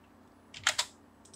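A number is typed on a computer keyboard during AutoCAD drafting, followed by the Enter key: a quick pair of sharp, close key clicks over quiet room hiss, then a faint tap.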